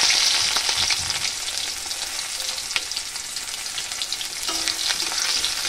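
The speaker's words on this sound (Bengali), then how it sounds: "রসুন ফোড়ন দিয়ে দেব" Crushed garlic fries in hot mustard oil as a tempering for a mango and taro-leaf dish, giving a steady, close sizzle and crackle throughout with no talking.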